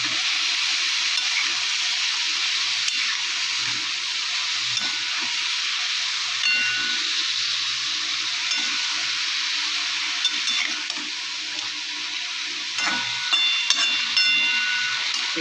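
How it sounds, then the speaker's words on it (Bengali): Morola fish with radish, salt and turmeric fries in a pan with a continuous bright sizzle and hiss, broken by occasional soft scrapes and clinks as it is stirred. "দিয়ে আবার বেশ কিছুক্ষণ নাড়াচাড়া দিয়ে নেব"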